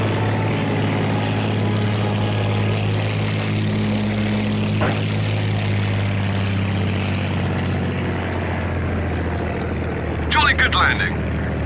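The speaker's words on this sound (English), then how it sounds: "Land on the airstrip." A propeller fighter plane touches down on an airstrip in the Battle of Britain flight game Combat Wings, its engine droning loud and steady throughout while a brief spoken line rises near the end.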